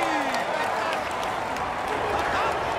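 A crowd cheers and applauds a rider in a Tour de France video game, a dense continuous wash of clapping and voices with a commentator talking over it.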